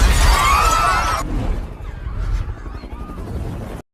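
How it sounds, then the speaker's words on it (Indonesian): Glass shatters from a rooftop scene in the 2012 film Chronicle, a loud, dense crash of breaking glass lasting over a second before fading into softer debris and ambient noise. "Orang-orang yang ada di atas gedung tiba-tiba dikagetkan saat Andrew memecahkan kaca dan mengambil kamera mereka semua."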